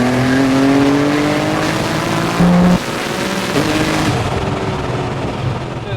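A 1900hp Nissan GTR pulls hard in third gear on a street, its engine note rising steadily and loudly, with a brief sharp tone midway as the revs keep climbing.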